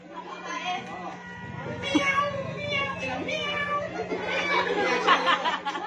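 A child mimics a cat's meow among chatter and laughter from several voices nearby at a kids' Halloween party.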